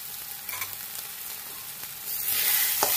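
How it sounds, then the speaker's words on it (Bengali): Spice paste for curd fish curry fries in ghee in a pan, a steady close sizzle with occasional stirring scrapes that grows louder and brighter in the final second, no talk heard. "ঘি দিয়ে মশলাটাকে কষিয়ে নেব"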